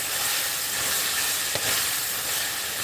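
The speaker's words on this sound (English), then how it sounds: "The crackling of the fat in the bottom of the pan." Ground beef fat crackles and sizzles in the bottom of a frying pan, a steady dense hiss with fine pops and one brief louder snap midway, close and continuous with no voices.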